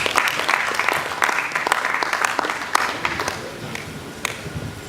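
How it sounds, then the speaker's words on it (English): A conference audience at a youth mentoring summit in Badagry claps in sustained, dense applause, loud and steady throughout with scattered sharper claps near the front. "Mr. Isaiah, would you please give him a round of applause"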